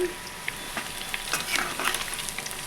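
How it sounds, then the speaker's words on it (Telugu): Korrameenu (murrel) fish pieces coated in spice paste fry in a pan for an Andhra-style fish fry, giving a steady close sizzle with frequent crackling pops and no voices. "చూడండి ఇలా వేయించుకోండి సరిపోద్ది"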